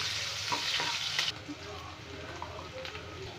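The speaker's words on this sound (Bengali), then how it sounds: "এই তেলেই দিয়ে দেবো গোটা গরম মশলা, এর মধ্যে দিয়ে দেবো পেঁয়াজ" Whole garam masala and onion frying in hot oil for egg malai curry give a steady close sizzle, with a sharper crackle at first that settles into a softer fry. No one speaks.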